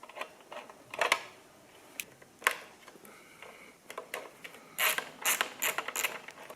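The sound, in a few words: 12mm wrench loosening a nut on a motorcycle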